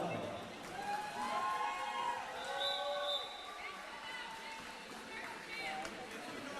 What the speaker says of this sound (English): Please give them a big round of applause, as we cannot put on this game without them.